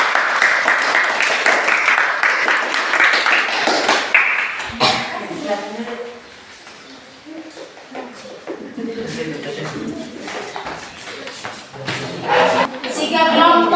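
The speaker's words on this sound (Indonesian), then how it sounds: "berikan tepuk tangan untuk nomor 2" Applause in a school classroom for a student group after its presentation, broad clapping in the opening seconds that fades into quieter room sounds and scattered taps, with speech over parts of it.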